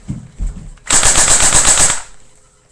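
An airsoft M4 carbine fires a single rapid burst of about a second, a loud, close, fast string of sharp mechanical snaps.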